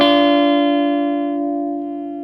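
A single sustained note from a Gibson Les Paul Traditional electric guitar with the tone control rolled off, mellow, ringing out and slowly decaying, no other sounds.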